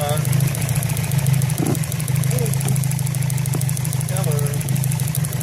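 A car engine idles with its number 4 fuel injector disconnected, giving a steady low hum with a misfire. Faint intermittent sounds occur in the background.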